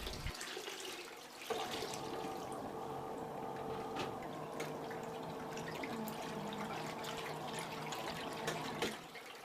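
A Delta semi-automatic washing machine running on its timer with soapy water churns steadily, a continuous watery wash with a low motor hum that starts abruptly after a brief quiet moment and cuts out near the end.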